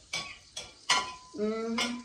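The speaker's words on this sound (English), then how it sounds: "Butter boiling, what can I do?" Butter boiling and sizzling in a pan, with several sharp clinks of utensils against the pan over a soft frying hiss and a brief tonal hum near the end; no talking.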